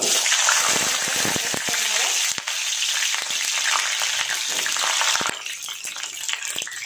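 Cauliflower florets frying in about two tablespoons of hot oil in a kadai, a loud, steady close sizzle with crackles throughout that eases slightly near the end, no voices.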